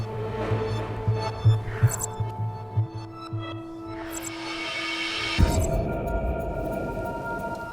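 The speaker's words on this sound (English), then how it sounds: "What's the rumbling, though?" Low rumbling drone in the sci-fi video game The Complex, a steady throbbing hum with tonal layers and a sudden heavier burst of noise midway, no speech.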